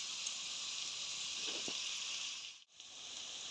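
Green chillies sautéing in a pan, a steady faint hiss and sizzle with a brief soft clatter mid-way and a short dip near the end.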